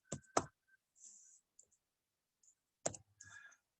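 Calculator keys tapped while a negative fraction is entered, a few sharp close clicks spaced irregularly with quiet gaps between, faint and without talk.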